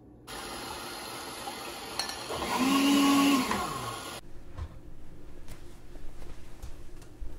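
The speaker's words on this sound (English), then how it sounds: "Now that we have washed off the nut milk machine" Milky Plant nut milk machine running a water cleansing cycle: a steady motor whir with rushing water that swells to a louder hum, then stops abruptly, leaving quiet room noise and small clicks.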